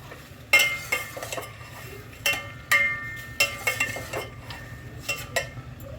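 Macaroni is tipped into a pot of cooking chicken and stirred, with intermittent metallic clinks and scrapes of a spoon against the pot, close and fairly clear, with no talking.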